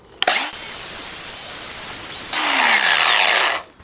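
An angle grinder cuts a slot into a metal fork in a workshop, a loud broadband burst at the start, a brief pause, then a sustained harsh cutting roar for over a second before stopping.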